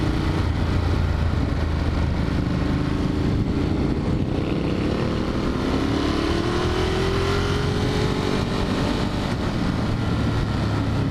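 A Ducati Monster 1200 motorcycle engine drones under steady wind noise while riding on back roads at tame speeds, its pitch climbing smoothly partway through and then holding.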